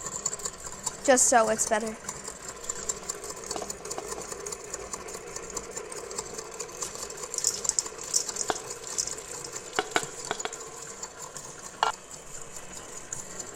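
An electric mixer runs steadily on a slow setting, whirring as it blends chocolate chips and peppermint extract into cookie dough, with someone talking over the hum.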